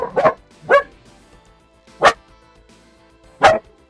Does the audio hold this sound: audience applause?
no